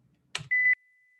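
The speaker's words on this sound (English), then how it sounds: "It beeped." After a short click, a computer running a temperature conversion program gives a single short, clean electronic beep of steady pitch, quiet and isolated against silence.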